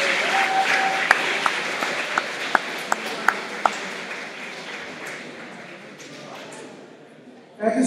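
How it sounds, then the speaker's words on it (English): Audience applause fills a hall at a 2016 academic awards ceremony, steady clapping with a few sharp pings cutting through, fading out before a brief closing sound. "we have a big round of applause for all those students in senior hall"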